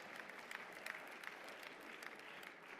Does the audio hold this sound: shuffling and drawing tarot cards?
no